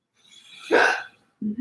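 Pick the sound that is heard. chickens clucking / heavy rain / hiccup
hiccup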